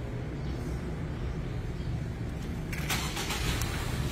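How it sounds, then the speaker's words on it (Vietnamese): A Ford Tourneo MPV engine starting by remote key, a steady low idle rumble building with a brief higher-pitched whir and clicks partway through, heard from nearby with no talking. "Còn ấn giữ nút ấn thì này thì sẽ làm máy nổ."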